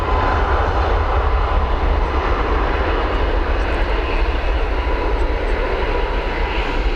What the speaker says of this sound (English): Well, we've got this Boeing 737 MAX.